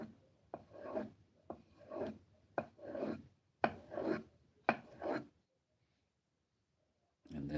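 A carving knife's back bevel drawn along a strop in about six steady rubbing strokes, each a soft raspy swipe, close up, followed by a brief pause before another stroke begins.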